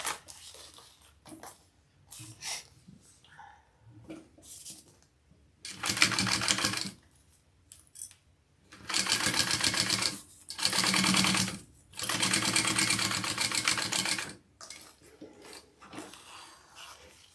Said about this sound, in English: we're just basting the layers together here